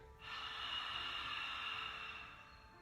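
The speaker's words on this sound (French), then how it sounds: "On appelle ça la respiration de l'océan." Ujjayi ocean breath during a yoga session: one long, steady exhale through a slightly constricted throat, soft and close, with a hissing, airy rasp that fades at the end.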